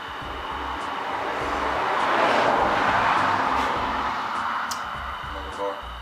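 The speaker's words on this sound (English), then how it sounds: "Another car." A car passes outdoors, its broad whoosh swelling to a peak midway and then fading, heard under people talking nearby.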